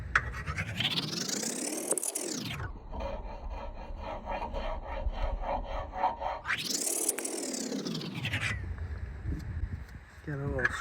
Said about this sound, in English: Then I'm going to go for these contact points with the file.